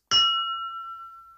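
A single sharp strike on glass rings out in a clear, bright tone that hangs and slowly fades away.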